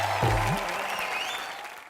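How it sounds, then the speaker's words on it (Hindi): A studio audience at a televised entertainment show applauds three celebrity guests. A burst of clapping rises at once, then thins and fades away over about two seconds, with a brief vocal sound at the start. "एक बार हमारे तीनों सुपरस्टार के लिए जोरदार तालियां हो जाए"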